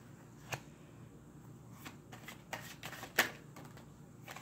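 Tarot cards shuffled by hand in a quiet room, a few soft riffling bursts and taps spread across a low background hiss, with one sharper snap of cards near the end.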